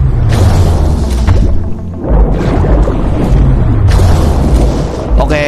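Harpoon gun shots and underwater impacts in the diving video game Dave the Diver, loud booming bursts with whooshing tails, several in sequence separated by brief dips.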